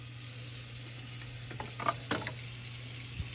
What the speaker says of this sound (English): we got into a rolling boil